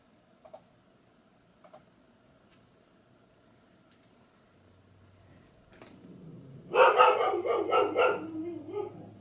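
Faint ticks early on, then dogs break into a burst of loud, rapid barking that carries on to the end.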